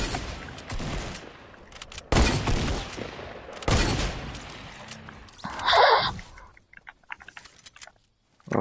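Scattered loud gunshots in Fortnite, including sniper shots, come as several sharp blasts with gaps between them and a brief higher-pitched game effect near the end, before fading to near silence.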